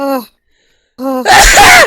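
A single loud, close sneeze bursts out after a short spoken interjection, noisy and explosive over about half a second.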